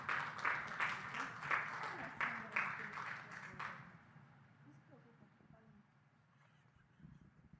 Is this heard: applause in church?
yes